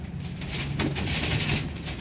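Pet pigeons coo in low, soft murmurs, close by and alone with no talking, under a faint background hiss with one brief sharp click.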